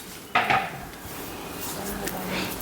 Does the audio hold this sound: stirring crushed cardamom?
yes